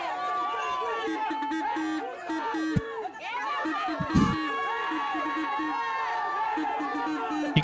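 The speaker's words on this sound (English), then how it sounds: "You can hear the crowd getting into the game for Norcross." Soccer crowd at a UPSL Premier Division match between Potros FC and LSA Norcross, a steady roar of chatter and shouts with a few louder swells, heard at a distance over the field.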